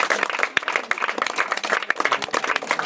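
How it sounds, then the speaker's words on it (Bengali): Crowd of onlookers at an outdoor street gathering clapping on request, a dense, uneven patter of many hands at close range that keeps going steadily. "হাততালি মারো তো, চাকুটা বার করে দিই"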